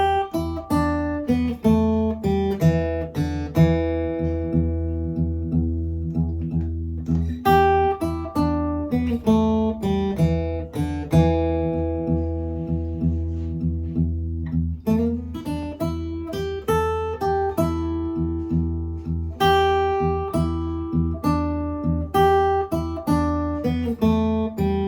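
Fingerstyle blues guitar shuffle played in a triplet feel, with a steady picked bass pattern and melody notes on top, ringing close and clear for about twenty-five seconds with no talking.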